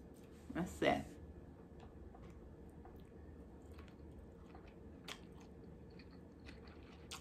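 Panda Express Beijing beef being chewed up close: a brief, wet squishing bite lands early, followed by quieter, faint mouth sounds.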